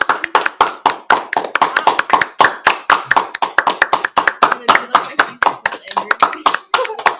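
A small group of people clapping loudly and close by, with quick, sharp, fairly regular hand claps running continuously from start to finish.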